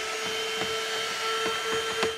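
ThisWorx 12V car vacuum cleaner running with a steady whirring hum and a constant whine, brushing or scraping sounds ticking repeatedly over the motor with no talk.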